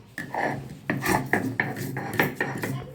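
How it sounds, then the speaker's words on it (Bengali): Black cumin and garlic are being crushed by hand, heard as a rapid series of close, gritty rasping and grinding strokes, about eight in three seconds, loud and without talk. "এই যে কালো জিরা রসুনটা একটুখানি বেটে নেবো"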